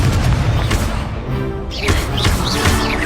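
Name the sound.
Implodo spell explosion in Hogwarts Legacy video game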